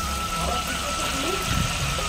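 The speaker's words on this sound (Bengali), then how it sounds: "এখানে হচ্ছে তেজপাতা, শুকনো লঙ্কা আর হচ্ছে গোটা জিরে ফোড়ন দিলাম" Bay leaf, dried red chili and whole cumin seeds sizzle steadily in hot oil in a home kitchen, a dense, even crackle that holds loud and constant throughout.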